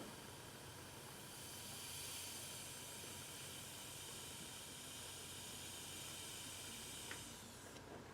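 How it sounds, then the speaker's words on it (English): Heat is applied to the wood of a Gibson guitar near a failed bridge, and it gives off a faint, steady sizzling hiss. The hiss runs unbroken for several seconds, quiet and close, with no talking. "Can hear it sizzling."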